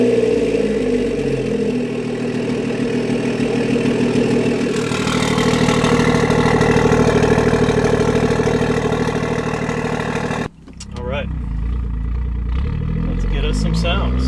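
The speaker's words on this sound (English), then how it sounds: "I do have the GTS startup roar on using boot mode" A BMW F30 sedan tuned with boot mode fires up with a loud, steady droning roar that holds for about ten seconds, then drops abruptly to a lower, quieter idle.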